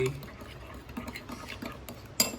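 Stirring a roasted bibe marinade with ground pepper in a bowl, soft scraping and light clinks of a utensil, quiet and close, ending with a sharper clink.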